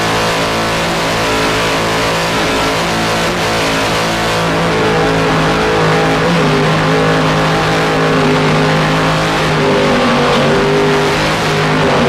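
A 42-foot coupe offshore racing powerboat called Heavy Metal roars steadily at full power during an offshore race on the Chesapeake Bay, a loud continuous engine drone with no break.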